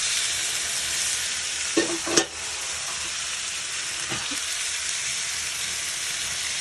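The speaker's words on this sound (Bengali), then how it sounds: "এখন আমি লাউ শাকটা ঢেলে দেব।" Bottle gourd greens with onion, garlic, green chili, salt and a little turmeric sizzle steadily in a pan, with a couple of clattering stirs breaking through the continuous close hiss.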